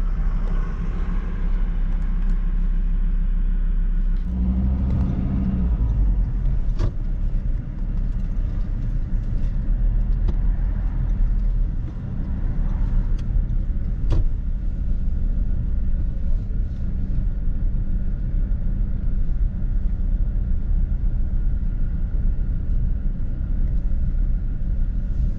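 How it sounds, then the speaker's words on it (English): A car drives through the Victorian Precinct in Oamaru, its steady low engine and road rumble continuous and close throughout, with a brief louder swell of noise partway through. "For a drive down through the Victorian Precinct again,"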